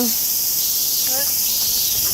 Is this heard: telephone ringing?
no